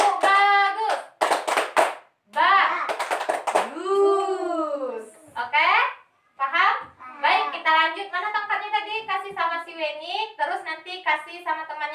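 A primary school class does a rhythmic patterned clap, sharp bursts of many hands clapping together in short sets, mixed with a teacher and children speaking and chanting.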